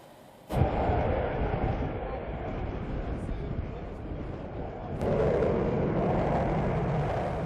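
Rafale fighter jet making a touch-and-go landing, heard as loud, steady broadband engine roar from inside, with a sharp thump near the start and a second surge of power about five seconds in.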